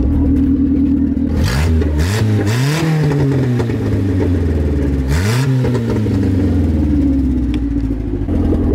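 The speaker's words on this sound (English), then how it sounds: "Give me a rev from, I want to get a burble from the outside." A Toyota Corolla TE72 wagon engine revs repeatedly from outside the car, loud rising blips over a steady idle with an exhaust burble between throttle stabs.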